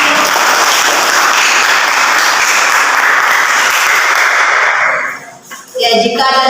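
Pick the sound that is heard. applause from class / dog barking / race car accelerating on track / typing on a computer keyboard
applause from class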